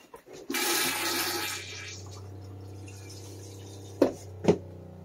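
An RV toilet flushing in a guest bathroom: a loud rushing burst of water that fades into a steady low hum of the running pump, followed by two sharp clunks near the end.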